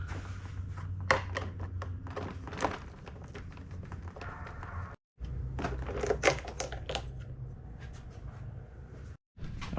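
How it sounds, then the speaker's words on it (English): Screws being taken out along the top of a panel on a Honda Beat soft top, with a close run of quick ratcheting clicks and taps in two bursts separated by a brief pause, no talking. "So all those screws along the top we're gonna go ahead and take out."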